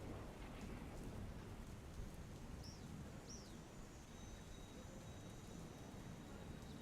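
Steady monsoon rain in Ahmedabad hisses and patters while a low thunder rumble fills the background; a couple of faint bird chirps break through.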